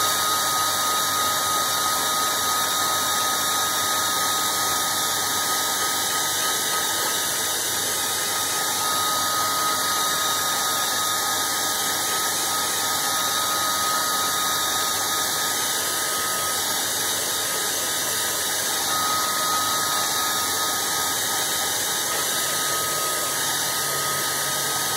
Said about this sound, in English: Okay, and then hairdryer.